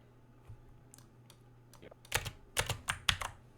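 Keys on a computer keyboard are typed in a quick burst of crisp, close clicks. Scattered single taps come first, then denser typing picks up toward the end. No one speaks.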